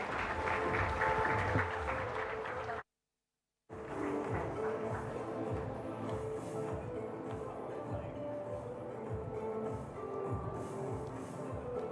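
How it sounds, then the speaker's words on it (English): An audience at a literature festival session applauds the guests, a dense, even wash of clapping that continues through a brief silent gap and carries on at moderate volume. "A big round of applause for our guests"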